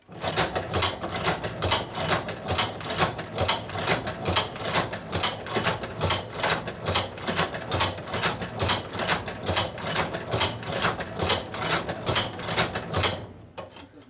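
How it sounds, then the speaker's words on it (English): A hand-cranked sewing machine stitches steadily down a leather strap, a fast, even run of mechanical clacks repeating without pause for about thirteen seconds before stopping abruptly, close and fairly loud. "the machine will continue sewing. So I'm going to sew down the length of this strap."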